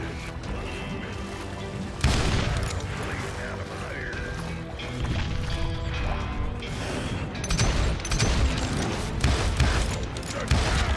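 Pistol gunfire in the PC video game Call of Juarez Gunslinger: sharp, loud shots and impacts burst out at intervals over a busy, mechanical game soundscape.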